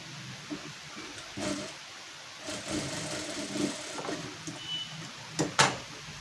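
A sewing machine stitches a blouse seam half an inch in from the edge, running in a few short bursts with pauses and soft handling noises between, fairly quiet.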